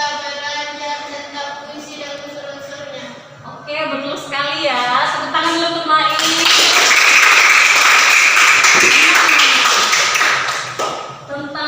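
A teacher's voice comes first in a classroom poetry lesson, then students break into a burst of clapping for a classmate that lasts about five seconds before fading.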